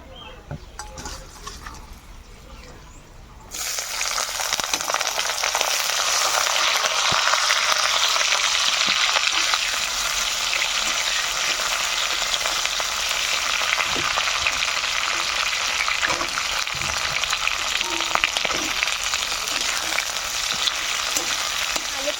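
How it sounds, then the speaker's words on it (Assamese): Potatoes frying in oil in a karahi give a loud, dense, continuous sizzle that swells in after a quieter opening and runs steadily close by, with occasional stirring clicks. "আলুখিনি ধুনীয়াকৈ ফ্ৰাই কৰি লওঁ"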